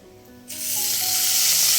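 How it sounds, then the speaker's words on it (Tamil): Marinated fish roe dropped into hot oil bursts into a loud, steady sizzle that builds quickly after a quiet start and holds strong and close. "இப்போ நம்ம மெதுவாக எடுத்து அப்படியே நம்ம எண்ணெய்க்குள்ளே போட்டு எடுக்கலாம்"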